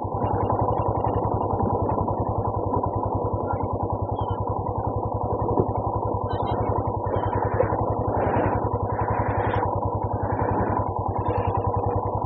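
A motorcycle rides through water on a rough, high mountain road at Kaksang La in Ladakh. Its engine drones steadily and loudly with a low, pulsing beat, and faint swishing bursts come through above it.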